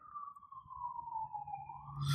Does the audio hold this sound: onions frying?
no